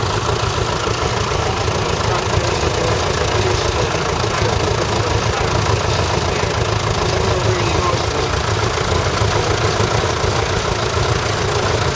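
Vintage tractor engine idling at an agricultural show, a steady continuous low rumble with crowd and outdoor noise around it, and people talking nearby.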